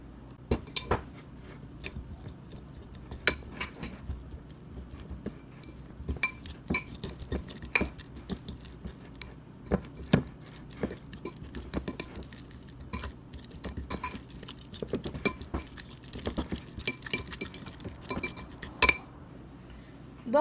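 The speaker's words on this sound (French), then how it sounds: "moi je vais l'écraser avec ma fourchette" A fork mashing a soft, sweet banana into purée in a dish, giving repeated close clinks and taps of metal on the bowl over a soft squashing texture, with no talking.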